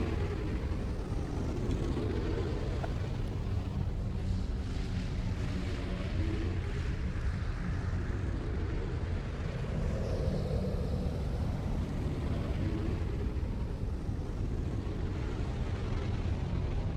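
An air taxi flight in the video game Star Wars: The Old Republic gives a steady, loud, broadband engine roar with wind-like rushing that holds without pause throughout, with no talking.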